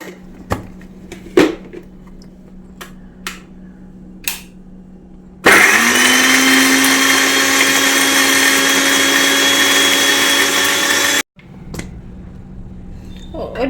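A mixer grinder crushes shallots and mango ginger for a Kerala-style chammanthi, running as one loud, steady whirring burst of about six seconds that stops abruptly, with a few light clicks and knocks before it and after it.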